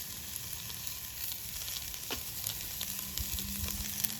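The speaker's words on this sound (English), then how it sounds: "I'm just going to stir these around until they're softened" Vegetables softening in a Dutch oven over a Solo Stove, with thyme, salt and pepper added, give a continuous even crackling sizzle with occasional light scrapes of stirring, low in level and without speech.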